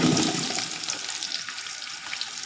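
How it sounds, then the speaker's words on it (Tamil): Onion dropped into a hot pan for beef biryani bursts into a loud hiss that eases to a steadier, softer sizzle over a couple of seconds, close by, with no talking. "இப்போ வெங்காயம் ஆட் பண்ணிடலாம்."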